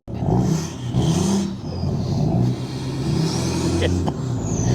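A car engine revs with quick throttle blips, a loud, close, rising and falling whir, while people talk over it.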